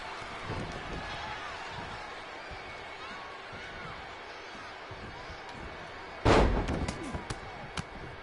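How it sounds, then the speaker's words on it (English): A wrestler's missile drop kick off the middle rope at a WWE match lands with a sudden loud slam over steady arena crowd noise, followed by a few smaller thuds. "Middle rope, missile drop kick. Hit the target."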